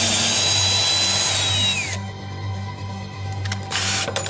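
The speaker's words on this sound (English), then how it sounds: "Re-drilling a hole." A power drill re-drilling a hole in wood for a greenhouse roof rafter, whining loudly for about two seconds then cutting off, followed by quieter workshop noise and brief tool bursts near the end.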